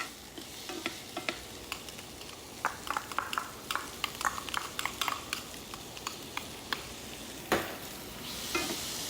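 Garlic and onions sizzle and fry in a pan for a home-cooked smoked trout pasta, with a steady crackle and scattered sharp spatters and utensil clinks throughout.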